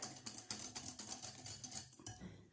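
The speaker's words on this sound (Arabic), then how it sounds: "هنايا زدت الزيت، غادي نخلط هكا مزيان" Cola cake batter is stirred in a bowl just after oil is added, a utensil scraping and clinking against the sides in quick, even strokes, close but quiet, with no talking.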